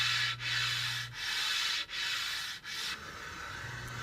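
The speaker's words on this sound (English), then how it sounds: "Here I'm sanding a slight bevel on the outside ends of the show face." Wood is hand-sanded to put a slight bevel on the outside ends of a piece, with quiet rhythmic rubbing strokes separated by brief pauses, close and soft.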